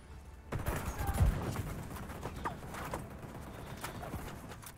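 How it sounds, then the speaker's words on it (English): An enemy fires at the player in The Division 2. The gunfire comes as quick, muffled bursts of rapid pops that sound faint and distant, with no clear voices over them. "He's shooting me up there."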